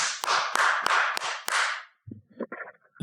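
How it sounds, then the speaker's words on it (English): Podcast hosts clap directly into a microphone, about five loud, close, sharp claps in a quick rhythm that then stop, followed by a few faint knocks and handling noises. "I love putting down the mic to clap into the mic."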